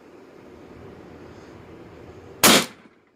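Single sharp shot from a First Strike FSC pistol fitted with a MILSIG HeatCore O-ring upgrade, a loud hissing burst after quiet room noise, fading quickly.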